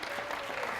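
Audience applause for Andrew at a team captain lecture, a brief dense burst of clapping that fills the moment, fairly loud and even, with faint voices mixed in.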